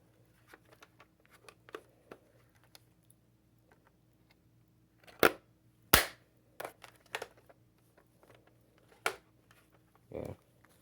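Semi-automatic battery-powered toy rifle firing a series of sharp, separate shots at uneven intervals, fairly close and clear against a quiet background with faint low hum.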